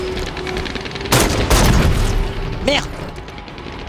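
Gunfire in the video game Halo 5 comes as heavy blasts and bursts of shots, loud and close, with a sharp electronic whine near the end and a voice exclaiming in the middle.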